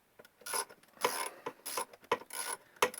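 A socket wrench ratchets in short repeated bursts, clicking close and fairly quiet, while undoing the nuts on the studs beneath the crankcase of a British Seagull 40 Plus outboard motor power head.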